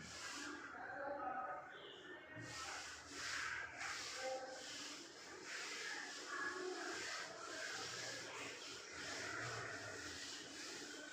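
A duster rubs writing off a classroom board in a steady run of soft, scratchy strokes. The scrubbing is rhythmic and fairly quiet, heard close by with no talk.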